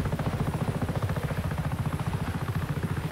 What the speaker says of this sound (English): There's no one flying that helicopter.